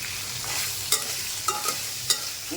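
Ridge gourd, added to hot oil with onion, garlic and ginger, fries with a steady sizzle while a spoon stirs it, giving several sharp scraping clacks against the pan at irregular intervals.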